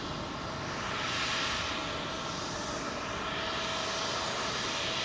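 A VIP Amiri flight aircraft arrives at London Heathrow, a continuous broad jet engine roar with a faint pulsing swell, fairly close and steady for the whole moment, with no one talking.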